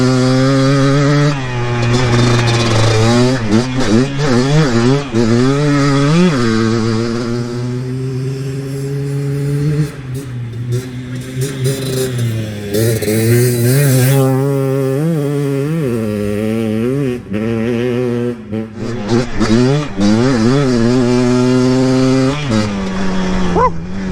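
A Yamaha Blaster two-stroke ATV engine is run at wide open throttle, its loud buzzing note climbing and falling through repeated revs and gear changes, close up for the whole stretch.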